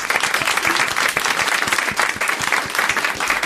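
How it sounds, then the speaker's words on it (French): Studio audience at a French entertainment show applauds warmly, a loud, steady wash of many hands clapping together throughout. "On peut applaudir"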